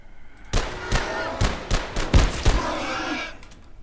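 Rapid gunfire in the Abiotic Factor video game: a burst of loud, close shots in an uneven rhythm, about eight sharp cracks in under three seconds, with no voices over them.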